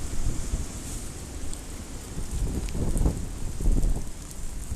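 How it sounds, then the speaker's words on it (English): Gusty wind blowing outdoors around a yard, a steady loud roar of buffeting against the microphone with rising surges, no voices. "We've got a wind now."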